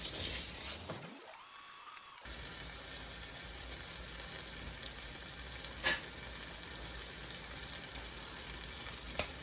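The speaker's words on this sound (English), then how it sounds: "While your rice is frying" Steady crackling sizzle of rice frying in a pan over medium heat for yellow rice, a broad hiss that continues throughout after a brief quieter dip near the start.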